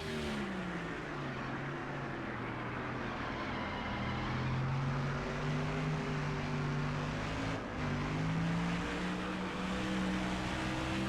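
Race car engines in the NASCAR Thunder 2004 video game, with worn tires late in a race, a loud continuous roar with several engine pitches rising and falling together and a close car running just behind, with no talking.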